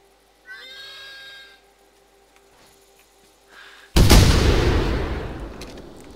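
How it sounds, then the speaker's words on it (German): A horse whinnies briefly, then a loud, close gunshot cracks and rolls off into a long decaying boom, heard in the hunting game theHunter: Primal. "Jetzt haben wir beide gleichzeitig geschossen."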